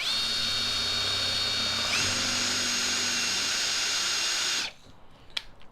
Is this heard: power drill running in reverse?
yes